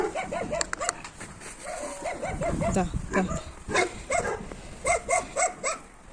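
Dogs barking repeatedly in short bursts, some near and some farther off, heard on a walk with a German Shepherd, with a voice speaking briefly over them.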